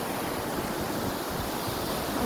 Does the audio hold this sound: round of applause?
no